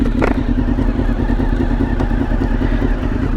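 A Honda RC30 motorcycle, a Fred Merkel replica, idles steadily at close range with a throbbing, clattery engine note and no talk, holding a low, even rumble after pulling over to park.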